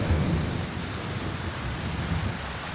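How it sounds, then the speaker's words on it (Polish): Steady heavy rain in the video game Darkwood roars as a dense wash of noise with a low rumble underneath, continuous and loud throughout. "Ale ulewa."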